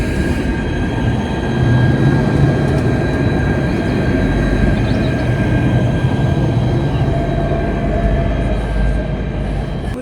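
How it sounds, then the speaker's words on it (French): A tram passes close by on a street in Brest, a loud steady rail rumble with squealing wheels that swells midway and stays strong before easing slightly, with no speech. "Et le tram passe juste à côté."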